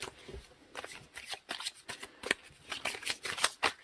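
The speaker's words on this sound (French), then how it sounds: "on va tirer une carte, voilà, c'est ceci, les cartes médecine" A deck of oracle medicine cards is shuffled and handled up close, giving a run of quick papery riffles and soft slaps in an uneven rhythm, with no one talking.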